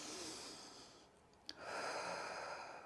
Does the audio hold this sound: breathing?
yes